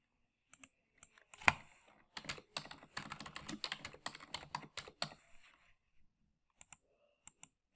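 Fingers type on a computer keyboard while entering room and space data in Revit 2017 electrical software, giving close, crisp clicks in an uneven burst with a few isolated keystrokes before and after.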